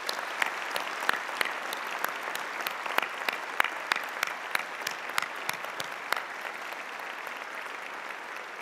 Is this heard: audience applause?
yes